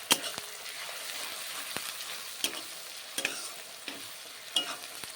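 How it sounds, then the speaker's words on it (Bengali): A spiced masala with ground coriander and cumin fries in a pan while a spoon scrapes and taps against the metal in irregular strokes over a soft, continuous sizzle, close and fairly quiet. "দিয়ে দেব সানরাইজের জিরে গুঁড়ি 1 চামচ, দিয়ে ভালো করে কষিয়ে নেব"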